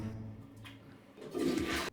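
In a video game, a toilet flushes with a short gurgling swirl of water that rises and cuts off abruptly, over a low background hum.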